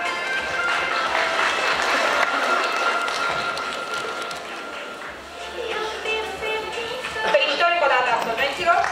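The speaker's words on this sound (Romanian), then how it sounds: "Hai să aplaudăm încă o dată" Audience applause at a Faculty of Letters graduation ceremony in Baia Mare, a steady sustained clapping that fills the hall throughout, with a voice speaking over it.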